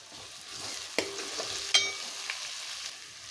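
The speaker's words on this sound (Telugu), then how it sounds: "ఈ ఉల్లిపాయ పేస్ట్ వేగుతుంది కదండి" Onion paste frying in a pan for a farm chicken curry: a faint, steady sizzle with a couple of sharp metallic clinks from the spoon against the pan, close by, no speech.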